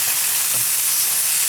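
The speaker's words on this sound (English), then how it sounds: "you just keep moving it around. Stir frying, that's where it comes from" Loud, continuous hiss of food stir frying in a hot wok, a dense, even sizzle with no pauses.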